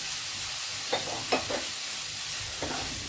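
Dried loitta fish go into a pan of cooking masala and fry with a steady, soft sizzle close by, broken by a few brief stirring scrapes and knocks, with no talk.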